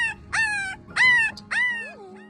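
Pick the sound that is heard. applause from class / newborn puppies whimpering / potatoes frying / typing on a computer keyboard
newborn puppies whimpering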